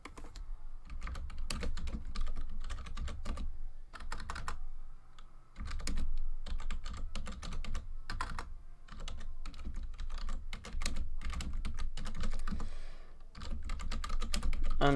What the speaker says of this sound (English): I'm typing in the chat if you guys can't see that.